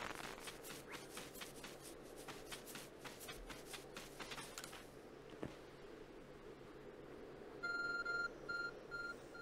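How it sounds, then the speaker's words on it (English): A phone rings with short, repeating electronic tone pulses near the end, loud against the quieter game sound that comes before it, which includes rustling and clicking. "Oh, my phone's ringing."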